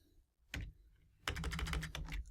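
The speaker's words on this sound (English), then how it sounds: "I'm going to type in Seattle carpet cleaning." Fingers typing on a computer keyboard, a short burst of keystrokes followed by a longer rapid run of clicks, close and clear with no talking.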